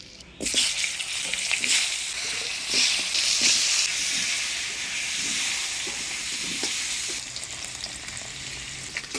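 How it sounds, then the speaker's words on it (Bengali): Potatoes frying in oil in a Bengali kitchen make a loud, continuous hissing sizzle that rises soon after the start and holds steady for several seconds, with occasional stirring knocks and no voices. "এবার এই তেলের মধ্যে আলুগুলা ভেজে নিই।"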